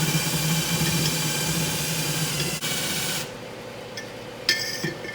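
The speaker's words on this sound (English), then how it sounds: "Drill it up." Power drill whirring steadily while a paddle churns beer wort for a New England IPA until foamy, then cutting off, followed by a few faint clinks and splashes.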